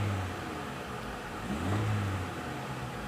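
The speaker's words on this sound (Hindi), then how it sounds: "ये आप देखें गाड़ी अभी स्टार्ट है" A Honda Civic engine, with P0113 IAT circuit and P0325 knock sensor fault codes and a grounding fault now fixed, runs at a low, steady idle. It rises in a brief rev near the middle, close by and without voices.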